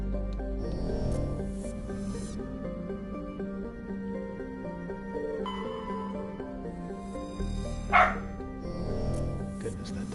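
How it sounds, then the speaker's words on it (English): A loud dog barks in the background of a Mass Effect game session, a couple of sharp yelps rising over sustained game music and ambient tones. "Goodness, that dog is loud."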